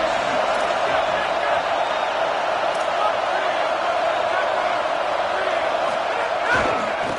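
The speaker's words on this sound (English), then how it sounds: "This crowd ready to make its presence known." A dense, steady roar of a large stadium crowd at an LSU college football game fills the air continuously, loud and unbroken, with no clear individual voices.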